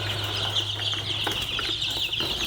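Young chicks crowded in a chicken brooder, a steady chorus of high peeping and soft cheeps close by, continuous over a constant low hum.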